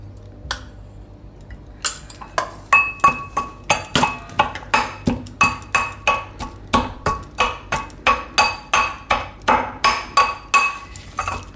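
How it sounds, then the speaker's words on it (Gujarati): Red chilli and spices pounded by hand in a mortar while filling stuffed brinjal for fritters in a Gujarati kitchen: a steady run of sharp, ringing thuds, about two per second, close and loud with no talk. "તો આ રીતનું આપણે ખાંડી લેવાનું."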